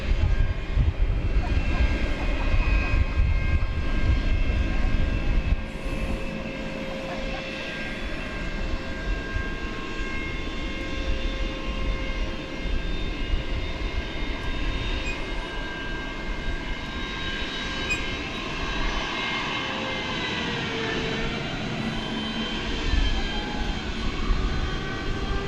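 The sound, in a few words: aircraft engine starting up at airport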